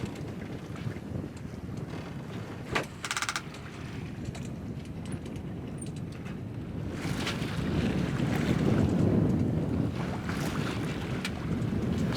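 Steady wind buffets the microphone aboard a sailboat sailed single-handed with a reefed sail in about 10 knots of apparent wind, with water rushing along the hull and gusts swelling louder toward the end; no one speaks.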